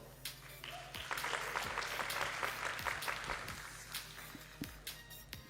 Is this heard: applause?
yes